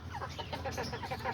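Kikiriki roosters, a small bantam breed, clucking in a steady run of short, soft calls close by, with low background rumble and no talk.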